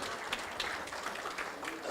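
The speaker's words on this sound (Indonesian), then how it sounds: "Berikan tepuk tangan bagi Tuhan kita." A church congregation claps in a dense, even patter throughout, with a voice talking over the applause.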